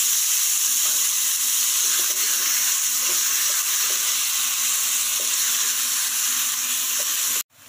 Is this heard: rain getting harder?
no